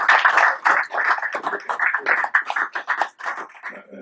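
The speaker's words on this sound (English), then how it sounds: "A round of applause." An audience at a school committee meeting claps in an uneven round of applause, individual hand claps clearly audible and close, fading slightly toward the end with no talk over it.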